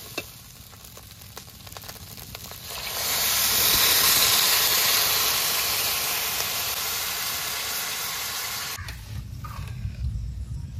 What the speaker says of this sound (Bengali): জল দিয়ে দিয়েছি, এবার চাল ডালটা জাল হতে থাকবে।